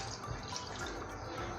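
Water runs steadily into a cooking pot of chana daal gosht, a soft continuous splashing heard at low volume with no talk.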